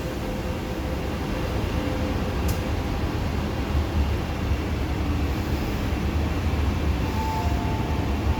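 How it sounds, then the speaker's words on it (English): A steady, loud rumbling roar of an MTR Tsuen Wan Line M-train at Admiralty station platform in Hong Kong, continuous throughout with a faint whine near the end. "The train to Central is arriving."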